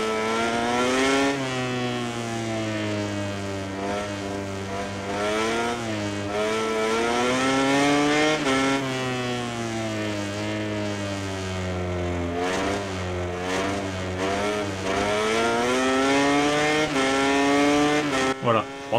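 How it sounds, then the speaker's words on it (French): A motorcycle engine in the MotoGP 19 racing video game revs and shifts gears continuously, pitch climbing and dropping through repeated up-shifts and braking for corners, loud and alone for nearly twenty seconds. "j'ai oublié de vous faire écouter le bruit du moteur"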